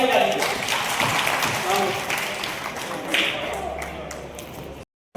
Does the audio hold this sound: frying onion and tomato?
no